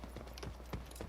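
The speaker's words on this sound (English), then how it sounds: "I hear footsteps" Footsteps in the multiplayer shooter Rogue Company, a few soft, evenly spaced steps near the listener over steady low game ambience, with no talking.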